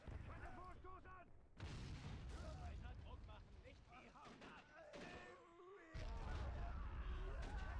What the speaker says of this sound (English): Oh wow, they just took a big hit from an artillery piece.